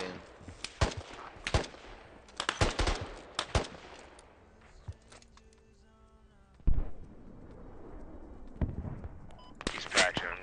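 Gunfire in the tactical shooter game Squad, with sharp bursts of automatic shots in clusters, some close and loud, separated by quieter gaps and a heavy impact, while players talk over the action.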